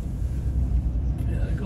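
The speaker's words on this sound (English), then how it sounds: "Bit windy." Wind buffets the microphone in a steady low roar with gusty rumbling throughout, outdoors at the Fort William mountain bike World Cup.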